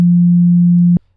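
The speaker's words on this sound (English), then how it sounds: "sine wave" Pure electronic sine test tone from a tape saturation plugin, a single steady low hum held for about a second at loud, constant level before cutting off abruptly with a faint click.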